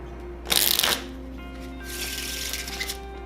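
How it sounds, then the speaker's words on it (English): A deck of playing cards riffle shuffled, a sharp burst of rapid flicking and ruffling lasting about half a second, followed by a softer, longer rustle as the cards are bridged and squared together, close and alone. "how to do the riffle shuffle, which looks like this."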